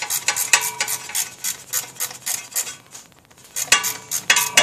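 Small ratcheting wrench working an alternator bolt on a 1996 Ford F150, giving a run of quick, close metallic ratchet clicks in short bursts, a brief pause near the middle, then more clicking.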